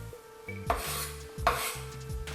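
A knife rocks back and forth across a cutting board, dicing an onion without lifting off the board; two distinct chopping bursts are heard close up over a steady hum, with no talking.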